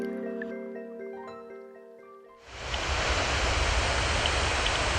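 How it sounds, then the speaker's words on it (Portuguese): A waterfall on the São Francisco River roars in as a loud, dense, continuous rush of water. It breaks in suddenly after a quieter stretch of soft tonal music. "começamos a ouvir o barulho da cachoeira"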